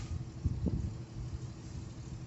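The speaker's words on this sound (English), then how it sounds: "I guess they're going to try to back that truck up." A truck engine rumbles outside during a slow reverse manoeuvre, a low steady drone heard from indoors at a distance, no voices.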